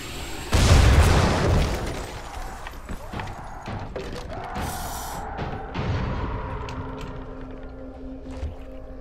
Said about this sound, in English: That's gonna explode.